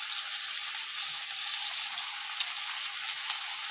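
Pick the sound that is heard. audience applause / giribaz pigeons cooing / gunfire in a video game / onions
onions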